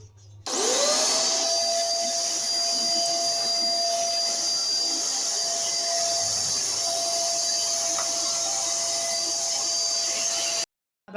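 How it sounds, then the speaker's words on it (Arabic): A vacuum cleaner starts up while a children's room is being cleaned, then runs for about ten seconds as a loud, steady roar with a high whine before cutting off. "هنا راح أشغل المكنسة."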